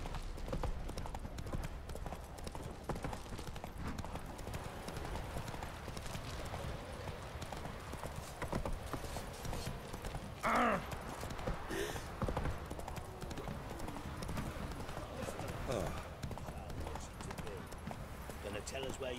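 Horse Roach galloping in The Witcher 3, rapid rhythmic hoofbeats continuing throughout at close range, with a voice speaking over them partway through.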